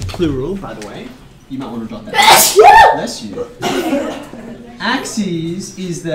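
A single sharp, loud sneeze bursts out amid talking, followed by light chuckling.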